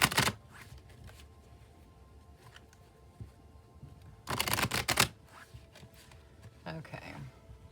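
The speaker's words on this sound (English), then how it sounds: "I'll shuffle till the deck feels ready, then I'll cut and we'll deal straight off the top." A tarot deck is shuffled by hand in a few crisp bursts of riffling card noise, loudest in one sharp flurry partway through, with quieter rustles and soft handling sounds between them.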